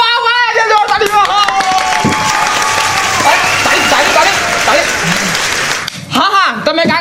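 A loud, dense burst of audience clapping and cheering fills a singing competition, starting after a short stretch of sung or spoken voice and holding steady, then cutting off near the end as voices return.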